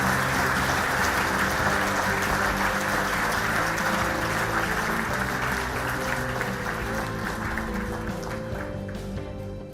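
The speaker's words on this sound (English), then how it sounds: "So, ladies and gentlemen, please give a warm round of applause for Jeremy Hunt." A conference audience at the British Chambers of Commerce annual conference claps in a dense, sustained round of applause that gradually tapers off toward the end.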